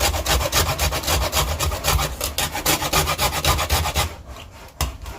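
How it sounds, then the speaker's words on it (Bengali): A lime peel is grated for zest for a homemade plum cake, making fast, rhythmic rasping strokes close up, about two dozen in a row before slowing to a few last scrapes. "এই পাতি লেবুটার একটু খোসা নিয়ে নেব।"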